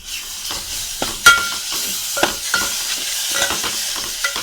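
Malvani ground masala paste, with asafoetida, Malvani red chilli masala and turmeric, sautés in a pan for a spicy toor dal, giving a gentle sizzle punctuated by sharp spoon scrapes and knocks against the pan, close and without talking.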